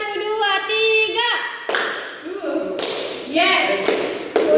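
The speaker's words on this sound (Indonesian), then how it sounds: "Tepuk 1, 2, 3." Children in a classroom doing a counted rhythm clap, a few sharp taps and claps between a teacher's chanted counting, close and lively.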